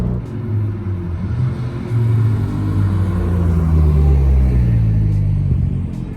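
Modified Stage 1 Honda Civic Type R FK8 on the move, its engine rising and falling through revs with a deep, loud, steady rumble and droning tones heard from inside the car, no talking.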